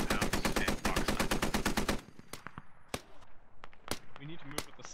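Rapid bursts of gunfire pour into a compound during a Squad video game firefight, a dense automatic volley for the first two seconds followed by scattered single shots and distant cracks, with voices talking over the action.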